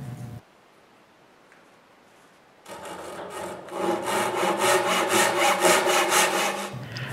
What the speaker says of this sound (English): Then I cut the corners where I won't turn it.